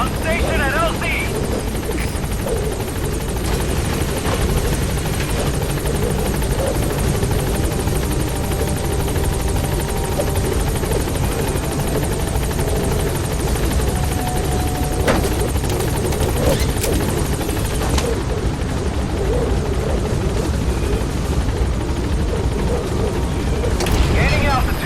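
The B-Quad support helicopter from Metal Gear Solid V arrives at a landing zone, its rotors a loud, steady drone throughout, with voices heard over the noise.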